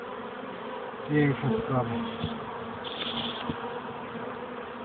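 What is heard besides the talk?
honeybees buzzing at a hive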